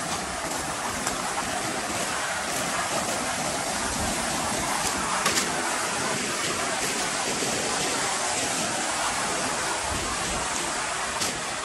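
Rushing river water near a water purification plant channel, a steady broadband roar filling the whole stretch, loud and continuous with no break.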